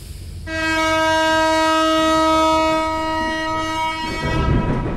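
A train in the Homeless psychological horror video game blares a long, loud, steady horn for about four seconds. The horn fades into rumbling rail noise, close by and with no talk over it.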